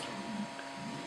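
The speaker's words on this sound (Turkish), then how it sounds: "Seçtikten sonra yapmamız gereken print tuşuna basmamız ve şu an duyduğunuz gibi yazıcımız çalışmaya başladı." A 3D printer that has just started a print job gives a quiet, steady mechanical hum with a faint whirring tone and no speech.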